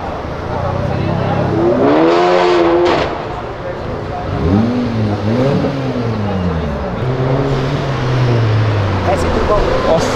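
A turbocharged Volkswagen Jetta MK5 drives past at a car club meet, its engine note rising and falling as it revs close by, with people talking over the noise.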